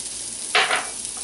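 Chopped shallot hitting a hot pan while beef tenderloin cooks gives a short, bright sizzle burst about half a second long, rising sharply then fading back into a low background hiss.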